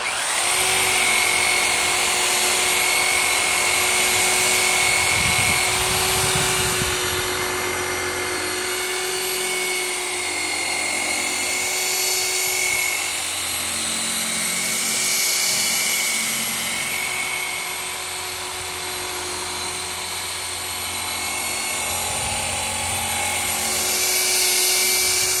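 A high-speed power polishing tool buffs the dull, peeling paint of a 57 Chevy, a steady whining drone that runs loud and close the whole time, with a sustained high tone and rising and falling pitch as the pressure changes.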